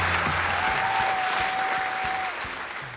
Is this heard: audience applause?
yes